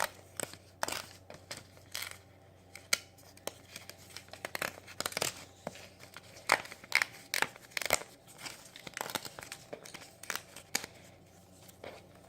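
Scissors snip and crinkle through a paper sewing template for a small fabric pouch, giving irregular sharp cuts and rustles close up, with no talking.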